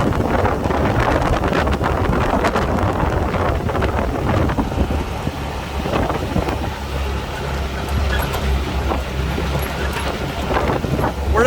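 A Polaris RANGER XP 1000 UTV rolls over bumpy ground at about 18 to 20 mph, its engine a steady low rumble beneath constant wind buffeting and rattling thumps from the rough terrain.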